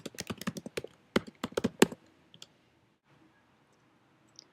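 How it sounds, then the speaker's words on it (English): Keys on a computer keyboard clatter in a quick burst of crisp clicks for about two seconds, close and clear, then a couple of isolated taps trail off into near silence. "I'm going to go type in my username"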